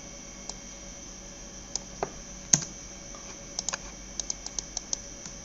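Computer keyboard typing with scattered key clicks, one louder keystroke mid-way and a quick burst of taps near the end, close and quiet with no talk, while an IP address is pasted.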